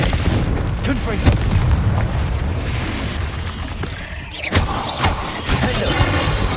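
Confringo explosive spell blasts in Hogwarts Legacy, a dense run of booming explosions and crackling impacts with several sharp bursts toward the end, loud and continuous.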